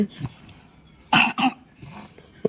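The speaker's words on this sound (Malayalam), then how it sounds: "ചുമ ഉണ്ടല്ലോ" A young girl coughs twice in quick succession, loud and close to the microphone, with quieter murmured speech before and after in an indoor setting.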